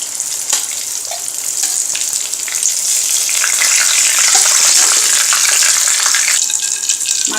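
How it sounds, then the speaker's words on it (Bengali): Hilsa fish pieces frying in hot oil give a loud, steady crackling sizzle with occasional spatters and stirring, heard close and alone throughout. "মাছগুলোকে এখন একটু ব্রাউন করে ভেজে নিব।"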